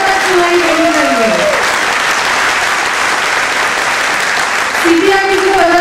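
Loud, dense applause from the audience at a DXN company presentation, steady and continuous, with voices calling out over it at the start and again near the end.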